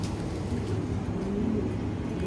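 A race-winning racing pigeon at a loft coos in low, soft, repeated murmurs close by over a steady background hum.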